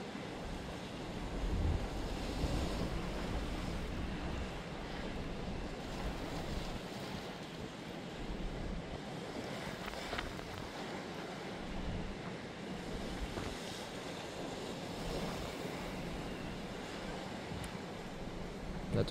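Heavy storm surf pounds the shore at Cap Couronne near Martigues during Storm Jana, a loud sustained roar of breaking waves mixed with strong wind rumbling across the microphone, with no one talking.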